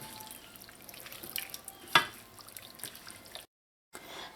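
Curry shrimp and potato being stirred in a pot: soft wet scraping and sizzling with one sharper clunk midway, quiet and close, briefly cutting to silence near the end.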